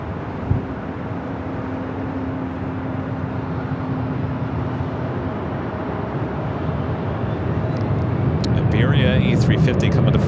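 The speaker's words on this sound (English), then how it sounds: "Iberia A350 coming in from Madrid, touching down on the south side, 25 left." An Iberia Airbus A350 arriving from Madrid lands on runway 25 left at LAX, a broad continuous jet roar that swells slightly near the end, heard from a distance with wind-like rumble throughout.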